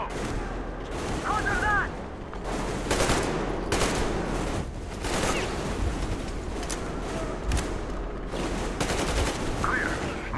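Bursts of covering gunfire and booming shots in Metro Exodus during a Two Colonels gorilla boss fight, loud and near, with a shouted voice briefly over the shooting.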